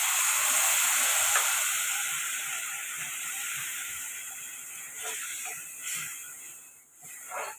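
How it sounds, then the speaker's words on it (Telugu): Tamarind juice hits hot spices in a pan for a spicy Rayalaseema egg karam pulusu, bursting into a loud hiss that slowly fades into a softer, uneven sizzle. "ఇప్పుడు ముందుగా తీసి పెట్టుకున్న చింతపండు పులుపు వేసుకోవాలండి"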